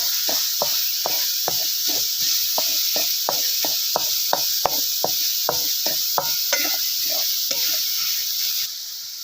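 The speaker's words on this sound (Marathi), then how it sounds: "अगदी बारीक जाळावरती आपल्याला ही करून घ्यायची सगळीकडून हलवून" Ridge gourd chutney stirred in a pan over a low flame, a steady sizzling hiss broken by a long run of regular spatula scrapes and taps, close and fairly loud, with no talking.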